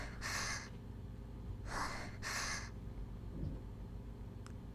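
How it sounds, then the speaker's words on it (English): An injured girl in the Amayado Bus Stop video game gasps heavily, three sharp breathy inhalations, one alone and then two close together, against a quiet low hum. "Does this person seem like she's making ha-ha breathing noises?"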